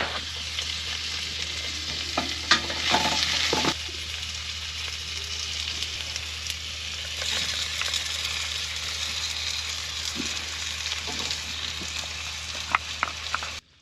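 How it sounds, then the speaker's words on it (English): Onions and garlic fry with chorizo in a pan on a dinghy cruise, sizzling continuously close up with occasional stirring scrapes and clacks. "I add onions and garlic to the chorizo."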